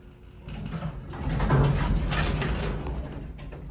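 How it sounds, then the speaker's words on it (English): A 1962 Westbrook traction elevator's generator winds up at a museum, a low rumbling hum that swells over a couple of seconds and then holds steady with mechanical rattle. "Epic generator starting up."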